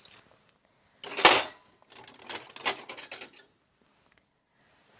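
Forks and table knives clatter and clink as they are handled in a kitchen, in a few short metallic bursts separated by quiet pauses.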